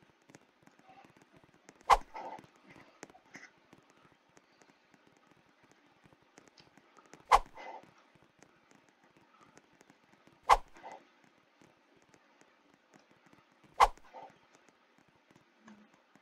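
Four sharp, isolated dog barks from a Roblox game, spaced several seconds apart over a faint background murmur, each one short and fairly loud.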